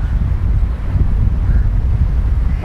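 Strong wind buffeting a microphone on a golf course at Dubai Creek, a loud, steady low rumble and roar with no talking.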